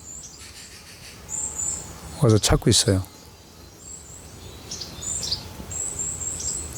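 Small wild birds chirp and tweet in short high bursts around a front-yard feeder, with a person talking briefly in the middle over steady outdoor background.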